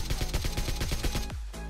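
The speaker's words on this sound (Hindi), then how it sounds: "जंप एंड शूट करते हैं और भाई कर देते हैं अभी खत्म।" Rapid AKM rifle bursts in PUBG Mobile fired while jumping, roughly ten sharp close shots in a fast regular rhythm, then a brief pause and one last shot, loud and clear with no voices.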